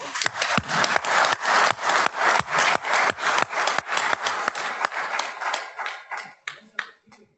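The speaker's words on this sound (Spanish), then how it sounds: "Aplaudimos." An audience applauds with dense, steady clapping that thins out and fades near the end.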